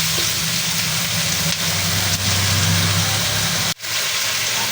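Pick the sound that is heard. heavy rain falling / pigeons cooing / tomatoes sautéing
tomatoes sautéing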